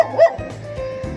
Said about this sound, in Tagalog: May aso din pati siya dyan sa ano